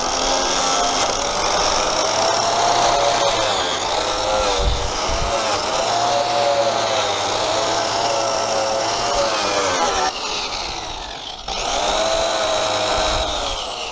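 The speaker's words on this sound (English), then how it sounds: "Starting with the rotary wire brush, I first remove the paint from the area which I would be welding." A rotary wire brush strips paint from a metal part ahead of a weld repair, making a continuous high whining scrape whose pitch wavers as the pressure changes, with short dips in the middle and near the end.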